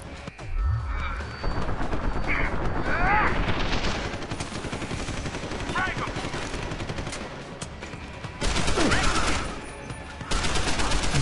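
Shotgun blasts and gunfire ring out in the Deus Ex: Human Revolution video game, loud bursts over a dense game mix with explosions, with someone talking in between.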